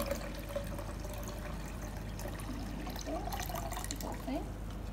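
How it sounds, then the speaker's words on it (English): Water pours into a blender jar for a mint and citrus drink, a soft steady trickle and splash heard faintly, with light gurgles toward the end. "I'm gonna add in the water into this first."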